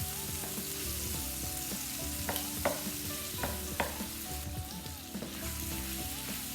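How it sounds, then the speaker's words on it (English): Beef and broccoli stir-fry in a hot pan with a steady sizzle, punctuated by occasional scraping and clinking as the food is stirred, close and fairly quiet throughout. "Everything can stir fry together."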